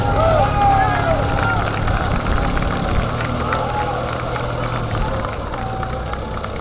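A restored vintage tractor engine runs steadily at idle with a low, even chugging throb that carries on for several seconds, close by, while a voice talks over it.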